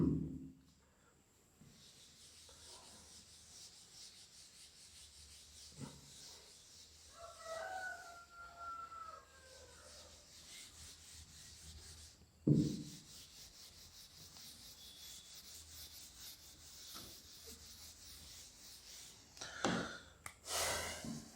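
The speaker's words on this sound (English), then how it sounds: "Before that, let me rub the board." A duster rubbing a classroom board clean, with repeated soft scrubbing strokes in bursts and brief pauses, fairly quiet and close, with no one talking.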